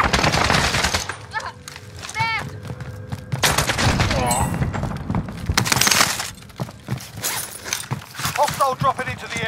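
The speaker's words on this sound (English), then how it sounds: "Look at that SMG." Rapid bursts of submachine gun fire in a first-person shooter video game, loud and close, with shattering impacts and a voice talking over the shooting.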